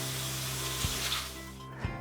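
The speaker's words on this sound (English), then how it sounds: "give it a 10-second rinse under flowing tap water to rinse and remove any fine particles" A Filteroo Max mineral pad is rinsed under a flowing kitchen tap, giving a steady, close hiss of running water with a low hum beneath and two brief thuds as the pad shifts.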